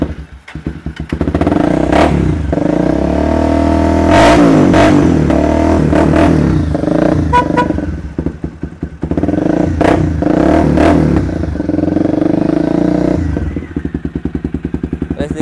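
A used sport motorcycle engine idles and runs at low rpm, a loud, close, steady mechanical drone with occasional clattering knocks and brief dips as it keeps running.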